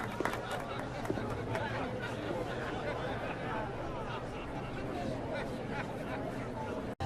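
Crowd chatter in Life Is Strange Double Exposure, a dense, steady babble of many overlapping voices gathered around, continuous and fairly close, running unbroken for about seven seconds.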